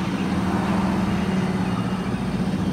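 A car with engine trouble runs close by, producing a steady low droning hum with a rough, uneven texture and no voices over it.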